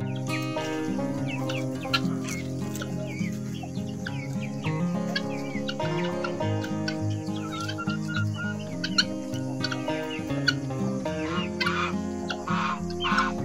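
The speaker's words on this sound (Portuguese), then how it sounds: "Aqui estão os filhotes peruzinho, alguns pescoços pelados." Farmyard turkey poults and naked-neck chickens cluck, cheep and peep continuously nearby, many overlapping calls in a busy chorus.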